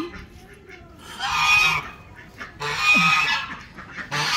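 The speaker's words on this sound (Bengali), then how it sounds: "আমার ছোট্ট হাঁসের খামারে চলে আসলাম।" Ducks on a small rooftop duck farm quack loudly and close by in two noisy bursts, with quieter calls between them.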